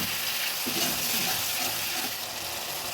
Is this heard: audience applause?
no